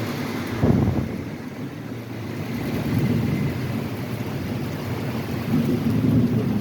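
Steady heavy rain pours down in Dubai while low thunder rumbles and rolls underneath, building slightly toward the end.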